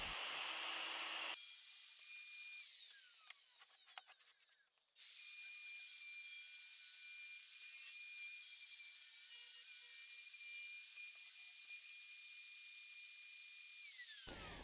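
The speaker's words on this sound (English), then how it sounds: "I'm just using my plunge router and basically just cutting out" A plunge router cuts a pocket into a wooden bed post, a loud, steady high-pitched whine that stops briefly, spins back up and runs continuously before cutting off.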